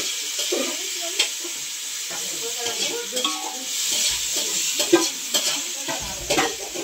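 Butter sizzling and crackling in a hot pan as butter paneer is started, a steady close fry with stirring clatter and scraping.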